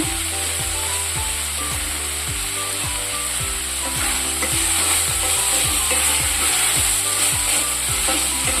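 Tomato bath (semolina upma) frying and being stirred in a pan with salt; a steady sizzle with scraping stirs runs throughout, partly under looping background music.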